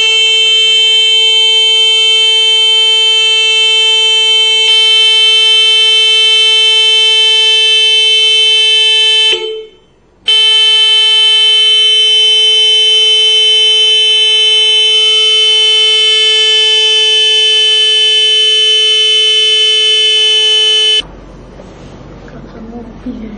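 A homemade earthquake detector's loud, piercing electronic alarm blares steadily, cutting out briefly once before resuming, then stopping abruptly into background noise.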